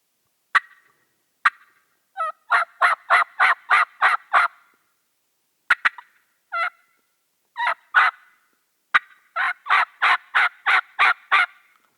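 Wild turkey calling, a sequence of sharp yelps and clucks from a turkey call with rhythmic bursts, loud and close, repeated in two series with brief pauses, no talking.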